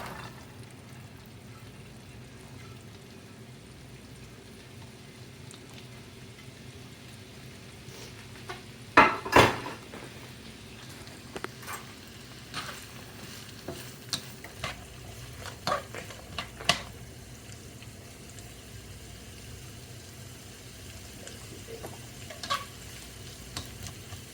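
Vegetables including onions cooking in a hot pan for shrimp and rice: a steady low sizzle with a loud clatter of a utensil against the pan early on, then intermittent scraping and stirring knocks.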